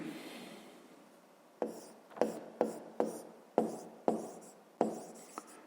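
A pen scratches on paper in short, separate strokes, about ten quick scribbles spaced irregularly, close and faint in a quiet room.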